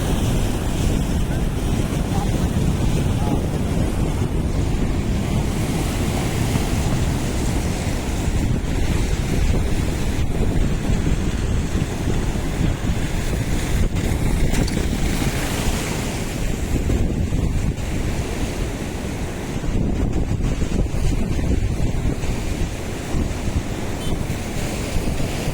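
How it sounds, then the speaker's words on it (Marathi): Floodwater from the overflowing Veer dam rushes into the Nira river in a loud, unbroken roar, buffeted by wind gusts across the microphone for the whole stretch. "हे सगळं नीरा नदीत पाणी चाललंय मित्रांनो"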